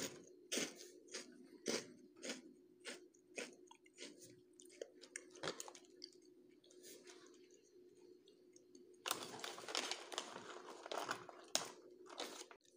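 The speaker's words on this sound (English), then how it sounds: "Let's hear that crunch." Close crunching and chewing of cereal, with sharp rhythmic bites and crackles repeating steadily, then a denser burst of crunching toward the end, with no talking.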